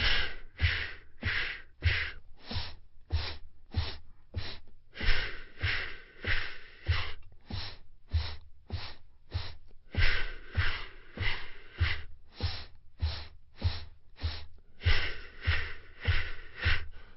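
Audible breathing without speech, repeated short breaths in a quick regular rhythm, loud and close, with pauses breaking up the pattern throughout.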